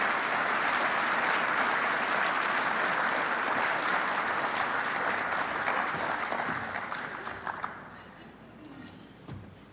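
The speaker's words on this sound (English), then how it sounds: "give a warm round of applause for John Hickenlooper" A political event audience applauds a former politician being introduced, a dense burst of clapping that holds for several seconds before tapering off, with a few voices mixed in near the end.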